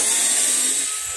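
A power drill backs screws out of a freezer panel with a loud, close, steady high whine for about a second.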